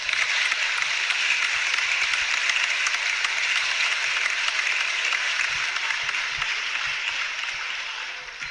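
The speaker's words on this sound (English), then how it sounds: "Can we just give a round of applause?" A sustained round of applause from an audience, steady dense clapping held for several seconds before easing slightly toward the end, with no voices over it.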